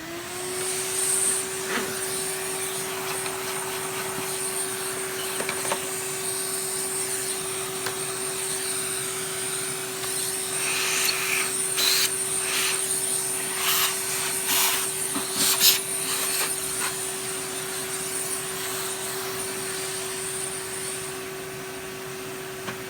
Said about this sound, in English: Vacuum this out.